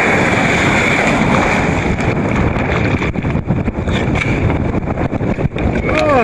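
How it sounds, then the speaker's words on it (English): Big ocean wave breaking at a breakwater near Raglan, rushing and crashing loudly around someone in the water in a swamped boat cockpit, with heavy wind buffeting throughout. "big wave."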